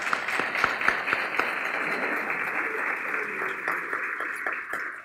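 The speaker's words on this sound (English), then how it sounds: "Let's give them a round of applause" A crowd at a ribbon-cutting ceremony for a college industry innovation center applauds steadily, dense clapping close and loud throughout, with a few sharper individual claps standing out and faint background voices.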